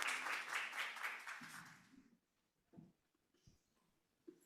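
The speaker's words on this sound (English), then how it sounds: "big round of applause for Nayeli Contreras and Eduardo" Conference audience applause, a moderate burst of clapping over the first two seconds that quickly dies away, followed by faint scattered room noises and near silence.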